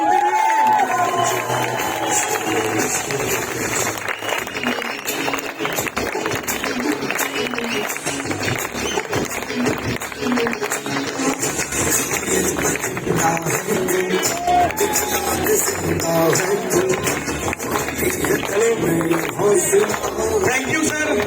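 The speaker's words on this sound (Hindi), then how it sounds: "जोरदार ताली होना चाहिए।" A crowd at a product launch event at Baga Beach, Goa applauds and cheers in a loud, continuous roar with scattered whoops and voices mixed through it.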